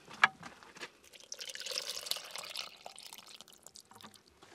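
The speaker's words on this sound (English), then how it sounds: "Okay, time to pour the liquid on." Brine poured over cabbage in a jar for fermentation: a sharp drip at the start, then a steady close trickling and splashing of liquid that fades into scattered drips.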